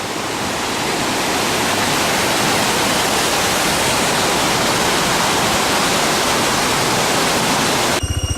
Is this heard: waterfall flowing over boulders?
yes